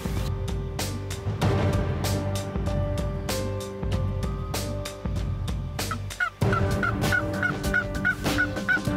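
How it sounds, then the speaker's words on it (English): A wild Osceola turkey gobbles repeatedly, loud rattling calls at close range over a steady musical bed with sharp percussive hits, no talking. "Big gobbler on the road out there."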